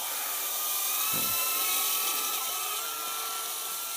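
Brushed-motor ducted fan FPV quadcopter running at high throttle, a steady high-pitched whine with shifting tones and one brief low thump, close and constant.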